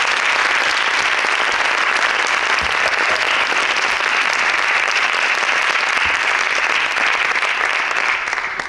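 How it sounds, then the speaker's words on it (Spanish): Audience at a literary café giving author Ray Loriga a loud, sustained round of applause, many hands clapping evenly and continuously before tapering off at the very end. "Le damos un fuerte aplauso a Ray Loriga."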